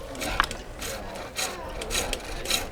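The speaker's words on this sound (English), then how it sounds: "Yeah, that's a skew chisel." A skew chisel takes a planing cut along spinning wood on a lathe, giving a close, steady rasping hiss that swells in repeated strokes over a low mechanical rumble.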